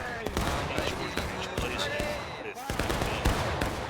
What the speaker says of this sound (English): some heavy fire.